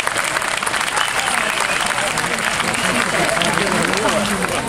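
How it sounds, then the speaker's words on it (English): Loud, dense applause from a crowd at an outdoor summer sunset concert in a botanical garden, sustained throughout with cheering and chatter mixed into the clapping. "give yourselves a huge round of applause for being here"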